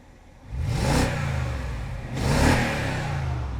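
A BMW E70 X5 V8 engine with worn valve stem seals revs twice in quick succession, each rise swelling to a throaty exhaust roar before settling back to a steady idle, heard close.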